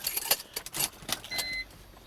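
Car keys for a 2002 BMW 325ci E46 convertible jangle and clink in quick metallic bursts, followed by a brief faint whine from the car.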